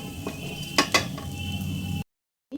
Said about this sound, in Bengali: লো ফ্লেমে এইভাবে ডিমগুলোকে হালকা করে ভেজে নিতে হবে